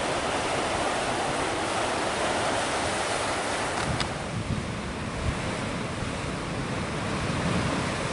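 Sea waves surge into an underground inlet at Downpatrick Head, County Mayo, a continuous loud roar of churning surf mixed with wind buffeting the microphone, with no pauses.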